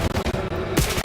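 Rapid SMG gunfire in a tactical multiplayer video game match, dense overlapping bursts of shots filling the short moment, loud and close with a sharp spike near the end.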